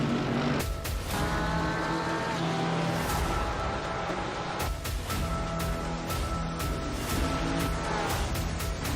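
Several sim racing cars in an online league race at Oulton Park rev their engines together at the start, a dense, loud, continuous engine roar with shifting pitch and no voices over it.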